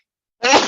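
A single close, loud human sneeze bursting out after a moment of silence.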